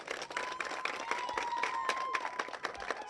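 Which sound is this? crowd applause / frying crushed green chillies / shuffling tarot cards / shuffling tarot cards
crowd applause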